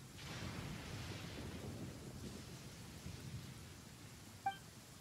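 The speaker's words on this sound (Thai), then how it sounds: "เสียงฝน" Rain falls in the Xavior Quest video game as a soft, continuous hiss with low rumbling. A brief chime sounds near the end, all faint and steady without voices.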